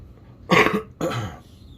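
Two quick coughs close by, the first sharper and the second slightly softer, with quiet background between them.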